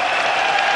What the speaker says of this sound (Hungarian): Fritz Dulek tapsol